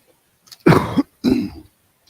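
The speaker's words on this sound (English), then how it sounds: "I get into this coughing bit" A person coughs and clears their throat up close in two short bursts separated by a brief pause, loud and with no speech around them.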